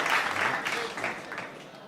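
Audience applause at an Urdu mushaira poetry gathering welcoming the poet Mushtaq Ahmad Mushtaq, a dense, steady wash of clapping that fades slightly over two seconds.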